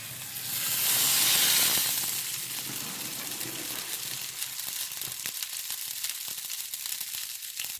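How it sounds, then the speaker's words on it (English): A pot of old beeswax boils and sizzles vigorously nearby, with a loud hissing surge at first that settles into steady crackling and popping. "it is really boiling up now"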